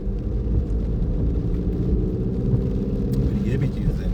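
A car engine runs with a steady, loud low rumble after a shift into second gear during a driving lesson, with road noise and no clear change in pitch throughout.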